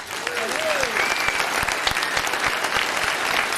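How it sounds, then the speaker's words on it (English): A convention crowd at a Chuck E. Cheese's general managers' meeting breaks into thick, sustained applause, many hands at close range, with a few brief whistles rising above the clapping. "Give yourselves a hand."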